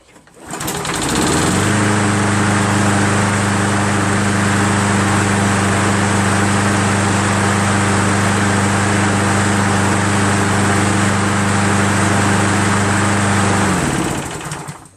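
A Toro Recycler push lawn mower engine runs steadily and loudly for the whole stretch, a constant droning hum with a buzzy, rattling edge, starting and stopping abruptly.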